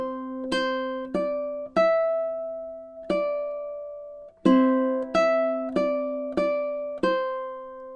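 Ukulele picking measures 7 and 8 of the French folk song Au clair de la lune: about a dozen plucked notes in a slow, steady rhythm, each ringing briefly and decaying, close and clean with no talk.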